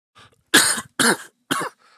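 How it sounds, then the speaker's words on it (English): Three sharp coughs in quick succession, close and fairly loud, preceded by a soft throat sound. "I'm sorry about all the coughing in your ear."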